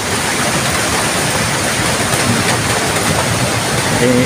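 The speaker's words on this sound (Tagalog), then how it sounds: "Ang lakas, saka yung ulan." Heavy rain pours down in a dense, steady roar, loud and unbroken throughout, during a typhoon with strong wind and flooding.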